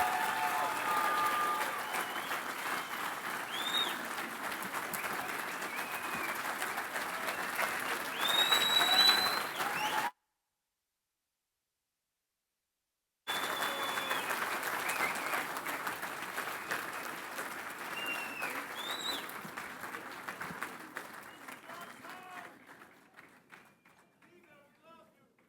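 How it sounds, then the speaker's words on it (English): An audience at a polo hall of fame induction ceremony applauds in a long, dense round of clapping that breaks off briefly, resumes and then fades out gradually. "Please, all of us give a round of applause to Peter"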